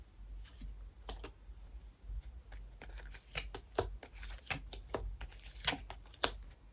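Oracle advice cards are shuffled up close in quick flicking bursts of papery riffles and taps, quiet and uneven, with no voice over them.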